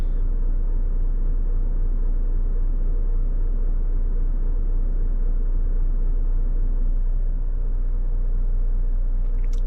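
Renault T480 truck unloading sand from a dump trailer, a steady low rumbling engine drone with a heavy mechanical hum, loud and continuous without pause.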